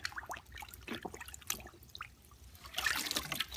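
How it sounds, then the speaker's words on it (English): Water trickling and splashing into a bucket to soak a t-shirt for tie-dye, uneven pouring that grows fuller and louder toward the end, with no talking. "Fill the bucket up with water just enough so you can soak your t-shirt in it."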